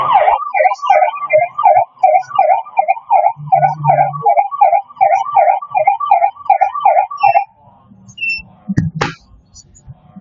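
Alarm panel siren set off when a door sensor is separated, wailing in a rapid repeating up-and-down pattern for about seven seconds before cutting out, followed by a brief clatter.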